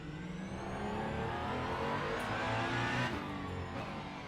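Race car engine at the Circuit of the Americas in the Le Mans Ultimate sim racing game, a steady loud roar with rising revs and a brief surge near the end, alone without talk.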